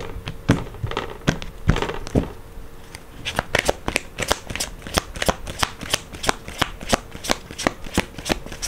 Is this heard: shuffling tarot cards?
yes